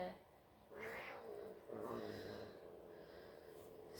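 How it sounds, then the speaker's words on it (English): A pet cat makes soft, quiet meowing and snorting sounds indoors somewhere in the background, faint and low under a calm domestic hush. "It's my cat Scrappy in the background there."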